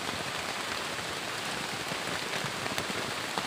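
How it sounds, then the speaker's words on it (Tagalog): Heavy rain pours down outside a hut in a forest, a dense, loud, continuous hiss of drops striking surfaces, steady throughout with no voices. "sobrang lakas ng ulan sa labas mga tol"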